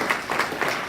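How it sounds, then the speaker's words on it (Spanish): A church congregation breaks into brisk, close applause, dense clapping with slight swells and faint voices mixed in. "Denle un aplauso al Rey"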